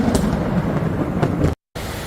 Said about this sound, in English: There's another storm coming right here.